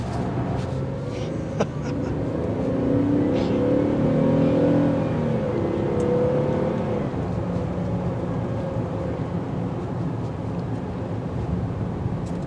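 A 2023 Buick Enclave SUV engine hums and gradually rises in pitch as it speeds up, steady road and wind noise underneath, heard from inside the cabin.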